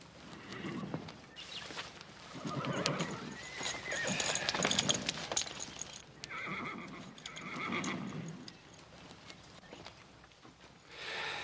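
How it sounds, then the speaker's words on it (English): A black horse whinnies and neighs several times over clip-clopping hooves, with faint ambient noise around it and no talking. "Charlie, slap a saddle on this black horse."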